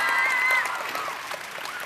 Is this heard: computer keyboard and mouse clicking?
no